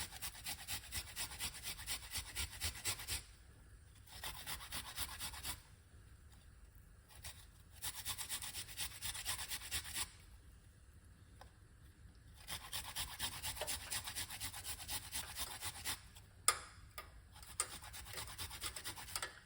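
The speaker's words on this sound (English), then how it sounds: "we're going to get the ginger and we're going to grate some ginger" Close, steady rasping of fresh ginger rubbed over a grater, in fast rhythmic strokes broken by a few short pauses, with no talking over it.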